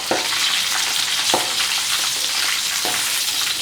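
Beef pieces frying in hot oil give a steady, loud crackling sizzle with a few soft clinks of a utensil, no voices.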